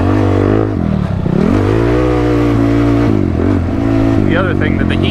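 A Honda TRX ATV with a freshly fitted exhaust revs hard at wide open throttle outdoors, a loud, close, continuous engine roar that dips and climbs in pitch as the throttle is worked, filling the whole clip.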